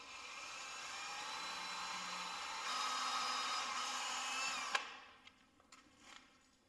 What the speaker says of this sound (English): we're going to pre-drill these just so we don't try not to split the wood